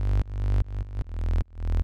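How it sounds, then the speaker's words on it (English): Future bass synth bass built from a sub layer and a mid bass layer, playing sustained chord-root notes in four loud phrases that swell and cut off sharply, with no voices. "It's a sub, and then this mid bass."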